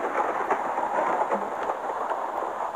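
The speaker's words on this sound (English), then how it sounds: "It's raining, isn't it?" Rain and rolling thunder from a video game play steadily for a few seconds, a dense hiss of rainfall with soft low rumbles and faint patters, no voices.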